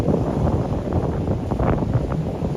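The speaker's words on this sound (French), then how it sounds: "Parce que là, je pense que vous allez avoir le vent." Wind buffeting a microphone outdoors beside a river, a steady loud low rumble with gusty swells throughout and no voices.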